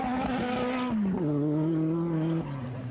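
A 1984 rally car on a gravel stage of the Rallye des 1000 Pistes roars close by, engine pitch rising and dropping through gear changes before fading away, with no voices.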